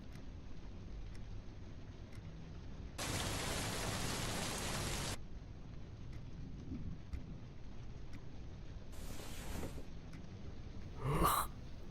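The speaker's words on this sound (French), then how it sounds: "Sérieusement, il se met vraiment à pleuvoir là?" Steady rain falling in a Minecraft world, a continuous wash of drops heard alone with no voices, with a louder bright gust of downpour midway and a brief rumble of thunder near the end.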